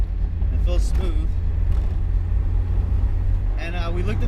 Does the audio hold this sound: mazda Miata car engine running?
yes